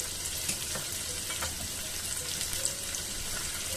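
Onions, curry leaves and cumin seeds frying in coconut oil in a small kadai, a constant dense sizzle with faint crackles, close and steady without voices.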